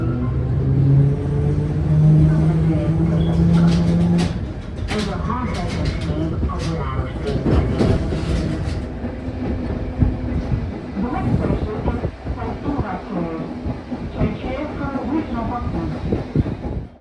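A Budapest suburban train running along a street-running line, with steady rolling rumble and clattering wheel noise; a tonal whine and horn-like tones early on, then clicking rail joints and rattles, with people speaking faintly at times.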